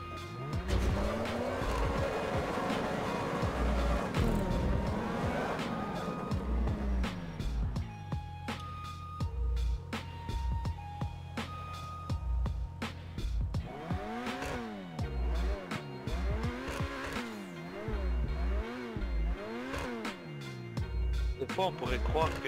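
Ferrari SF90 Spider drifting in GTA 5, its engine revving and dropping in long sweeping pitch arcs while tires squeal through repeated slides, loud and continuous with a voice talking over parts of it.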